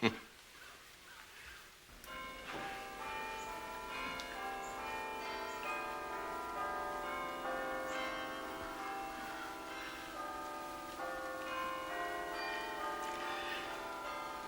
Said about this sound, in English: The bells. My husband used to love the bells. You can hear them so well from here.